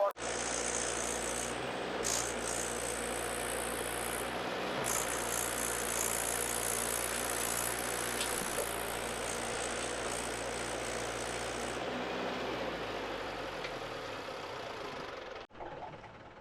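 A Mahindra 475 DI tractor engine runs steadily and loudly while the tractor sits stuck in a pit, its drone continuous until it cuts out near the end.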